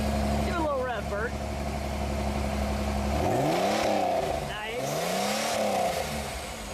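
A Pontiac Fiero engine idles with a low, steady hum, then revs twice in rising and falling sweeps, close and loud, with brief voices near the start.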